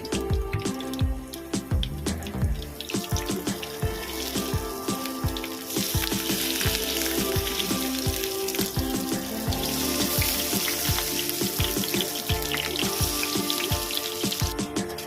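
Prawn paturi wrapped in bottle gourd leaves frying in a pan: a continuous close sizzle scattered with sharp crackles and pops, holding steady for about fifteen seconds with no voices.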